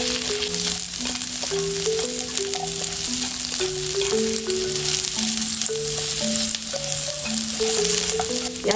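Scored sausage, carrot and vegetables stir-frying in a pan, a steady close sizzle with scraping stirs, while melodic background music plays throughout.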